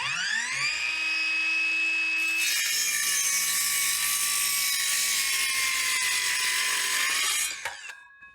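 Vitals ARg 18165Pa cordless battery saw cutting through wood, a loud continuous motor whine that rises and bogs under load, then spins down and stops, with no voices.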